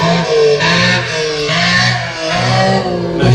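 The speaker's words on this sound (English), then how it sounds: "we can pull out that whistle, we can pull out the sort of raspy exhaust" A motorcycle engine in a racing video game gives off a raspy exhaust tone that surges and eases in several loud, close revs, with a buzzy edge and no voices.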